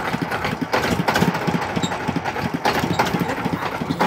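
Ferry boat engine idling at a Ganga river ghat, a steady mid-pitched mechanical drone with faint rattling, loud and close throughout without talk.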